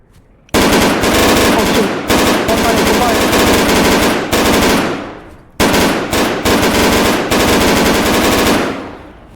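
Loud, close machine-gun fire rattles in long sustained bursts during an infantry breaching field training exercise. Brief pauses separate the bursts.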